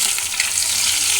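Katla fish frying in hot oil, giving a steady, close, bright sizzle throughout the short moment with no talk.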